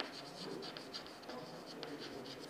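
Someone writes on a board in a classroom lecture setting, with short scratchy strokes coming in quick uneven bursts, fairly faint and close.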